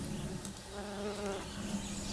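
Bees buzz around flowering huckleberry plants outdoors, a faint, continuous, wavering drone with no talking.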